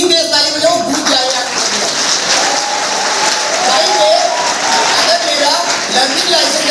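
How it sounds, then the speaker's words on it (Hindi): Students at a college road safety program clap loudly, a dense, sustained round of applause from a crowd that fills the whole stretch without letting up. "इनके लिए इतनी तेज ताली बजाओ"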